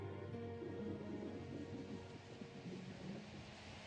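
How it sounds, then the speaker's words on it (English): Thunder from a brewing storm, a low continuous distant rumble that rolls on steadily and fades slightly toward the end. "Looks like a storm is brewing."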